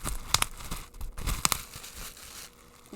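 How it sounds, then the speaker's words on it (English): Bubble wrap crinkles and tears as it is pulled off a One Piece anime figure, close and loud, with sharp crackling bursts and rustling over a few seconds. "Comes with lovely bubble wrap."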